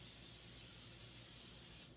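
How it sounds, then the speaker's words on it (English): Pam cooking spray hisses onto a pan heating on the stove, a continuous, close, loud aerosol burst lasting about two seconds before tapering off. "We're going to give it a little spray of Pam."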